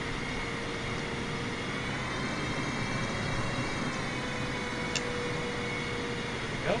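Steady broadband engine drone of a KC-135 tanker in flight over Hawaii in Microsoft Flight Simulator, a constant whine and rumble with no voices, one faint click near the end.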